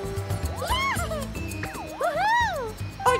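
A cat meows twice in Super Mario Party, rising and falling cartoonish calls over bright game music and effects, fairly loud and near.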